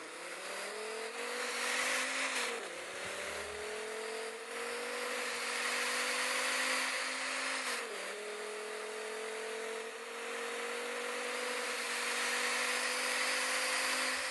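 A car engine in the game Real Driving Sim hums steadily in sport mode, dipping in pitch twice as it shifts or eases off, then climbing again, with no talking.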